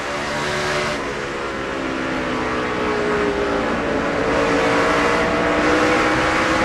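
NASCAR Busch Series race cars lap the track at the 2006 Sharpie Mini 300, a loud, continuous roar of many engines blending into one dense drone that swells slightly as the pack passes.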